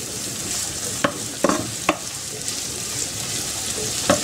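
Ham sizzles steadily in a pan for meatballs in almond and mushroom sauce, while a few sharp scraping knocks of a utensil stirring it stand out over the constant frying hiss.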